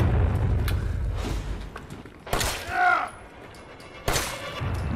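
Several sharp gunshot bursts ring out in Resident Evil 7: Biohazard, spaced a second or two apart, with a voice speaking briefly between them.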